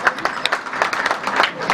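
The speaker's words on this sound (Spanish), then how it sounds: "También un aplauso para Víctor" Meeting audience applauding, a burst of scattered hand claps lasting under two seconds, fairly close and moderately loud, with no clear talk over it.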